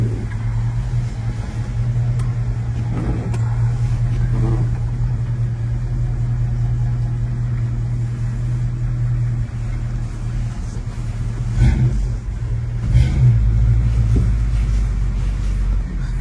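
A Ford Mustang engine gives a low, steady rumbling drone heard close from inside the car, with a few brief louder thumps near the end and no one speaking.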